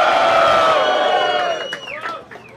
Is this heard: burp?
no